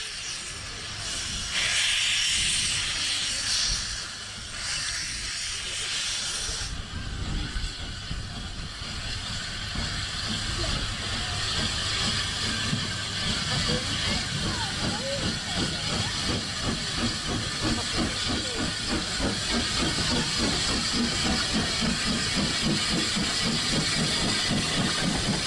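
Steady hissing steam with a rhythmic chuffing engine that gradually builds, continuous and fairly loud throughout, as a steam locomotive pulls away at a steam gala.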